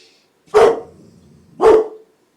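A dog barks twice, two loud close single woofs about a second apart, with no talking.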